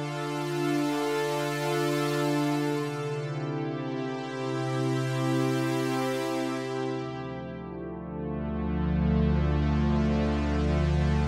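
An Omnisphere cinematic synth pad holds rich, sustained chords with a slow LFO pitch warp that gently bends the tone. A deep bass layer swells in near the end, and no one speaks over it.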